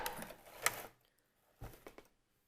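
A sewing machine stitches backward while a wig is being made, a short burst of quiet, rapid mechanical stitching, a pause, then another brief run of clicking stitches nearby.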